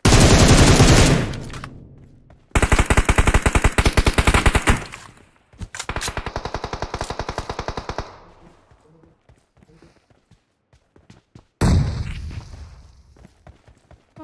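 Automatic gunfire in the mobile battle royale game PUBG Mobile, several loud rapid bursts separated by pauses, the last one short and sharp.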